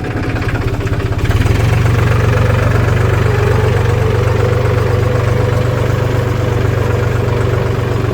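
A Farmtrac 45 tractor engine runs steadily in gear with a low, continuous diesel rumble; after about a second the note steps up slightly and then holds even and loud to the end, with no talk over it.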